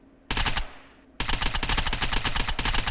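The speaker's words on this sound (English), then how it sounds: "I did just hear some shots over yonder, so let's go check it out." Automatic gunfire in the video game Unturned, with a short burst followed by a sustained rapid volley of loud, close shots and no talking.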